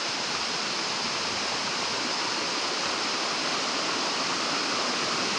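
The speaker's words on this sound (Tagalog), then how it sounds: "Yun po ang talagang ingay na maririnig mo dito sa Aruyan Falls." Aruyan Falls pouring at Sablayan Prison and Penal Farm, a steady, loud rush of falling water that fills the scene without letup and with no voices.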